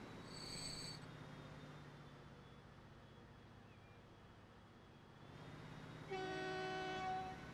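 Horn blasts from a train in the railway game Transport Fever, a short multi-tone honk at the start and a longer, louder chord near the end over a steady rumble of rolling stock.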